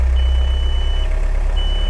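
A John Deere tractor fitted with a 440R loader reverses, its engine rumbling loudly while a thin high reversing beep sounds in two stretches over it.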